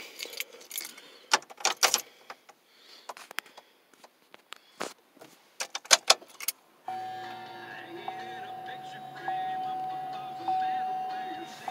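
Keys jangle and click in a series of sharp taps, then a 2004 Chevrolet Trailblazer LS engine starts and settles into a steady idle hum with a faint tone.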